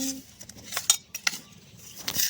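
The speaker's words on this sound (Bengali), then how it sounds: "চাট মশলাটা মিশিয়ে নিচ্ছি" A spoon clinks and scrapes in a bowl, mixing pickle with chaat masala in a few quick, close metallic taps.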